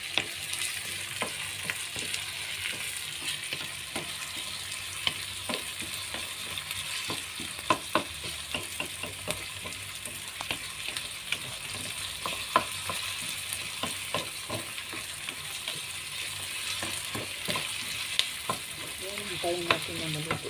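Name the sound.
tomato and onion frying in a pan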